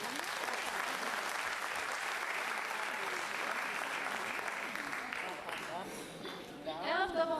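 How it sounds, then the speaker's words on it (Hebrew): Sustained audience applause fills a hall at a birthday celebration for a life-skills college, steady and fairly loud throughout, with a voice starting to speak over it near the end. "מגיע להם הרבה מחיאות כפיים."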